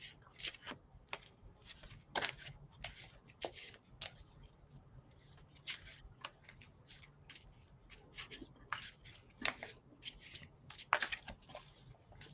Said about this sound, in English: I think the cards are getting tired. They don't want to shuffle.